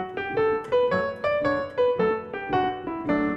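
A short instrumental scale played note by note in an uneven, lilting backward-swing rhythm, each tone clear and close, with no voices.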